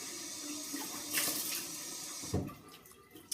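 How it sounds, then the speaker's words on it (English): A bathroom faucet runs steadily with cold water splashing into a sink during face washing, a close broadband rush with a brief louder splash near the end. "I'm going to wash off with cold water."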